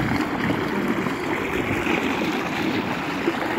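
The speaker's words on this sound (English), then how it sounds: "Let's take another look at this beautiful little river." A small river flows steadily nearby during a hike, giving a continuous broadband rush of water with no breaks, fairly loud and alone.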